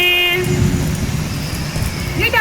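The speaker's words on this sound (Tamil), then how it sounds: "மழையும் பெய்தது" Rain and thunder effect played during a children's annual day stage story, a steady loud wash of rain with a low rumble running throughout, some tonal music or voice tones fading early and returning near the end.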